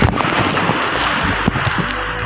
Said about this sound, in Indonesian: Oh. Ini lagi ombaknya datang.